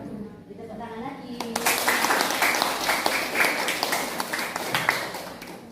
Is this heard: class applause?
yes